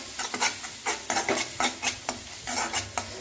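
Spices sautéing in oil give off a soft sizzle as a spoon stirs them in quick, repeated scrapes and taps against the pan, fairly quiet and close.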